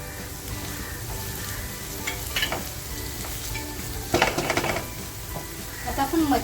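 Onion and tomato tipped into hot masala in a pan, a steady close sizzle of frying with bursts of louder crackling and stirring clatter as the pieces land, no talk.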